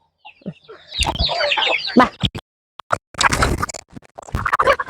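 Chickens cluck in short, uneven bursts nearby while feet and beaks scratch and peck at feed on the ground, with brief pauses between flurries.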